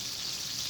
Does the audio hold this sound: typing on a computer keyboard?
no